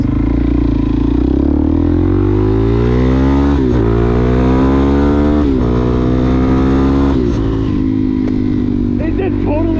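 Suzuki DRZ motorcycle with a new full exhaust revs nearby, the engine note climbing and dropping in repeated throttle blips over a steady idle rumble, loud and continuous, with faint wind noise.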